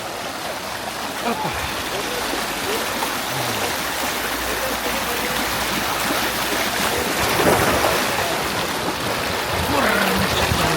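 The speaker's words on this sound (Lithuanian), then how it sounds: "Čia yra kriokliukai." Broadband rushing water from small waterfalls on a mountain Jeep safari route in Turkey, a steady close roar throughout with occasional brief voices over it.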